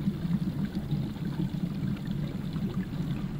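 Water pours steadily into a container in a horror video game, a continuous low splashing stream at moderate level with no voices over it.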